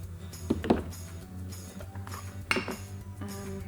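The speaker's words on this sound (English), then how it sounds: "I'm just going to mix some more impasto medium into the white." A palette knife works impasto medium into white paint on a palette, giving a few sharp scraping clicks and taps at irregular intervals over a faint steady hum, with no voices.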